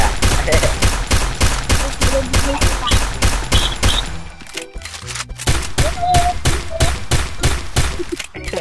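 Rapid automatic gunfire in a shooter video game, loud and close in long sustained bursts with a brief lull in the middle before firing resumes.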